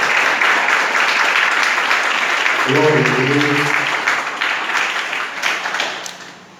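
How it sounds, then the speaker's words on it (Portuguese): A church congregation breaks into sustained, loud applause at a sermon on forgiveness, with a voice calling out over the clapping before it thins and fades near the end. "Dê uma salva de palmas ao Senhor por causa dessa palavra."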